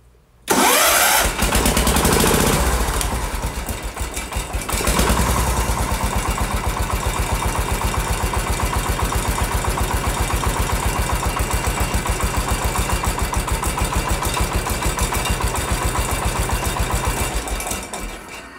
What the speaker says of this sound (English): I'm going to start up the tractor here.